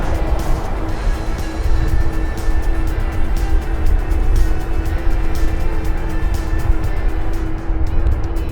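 Steady road traffic on a busy urban street, heard from a bicycle rider alongside: a continuous broad rumble of engines and tyres throughout, fairly loud and close, with no talk.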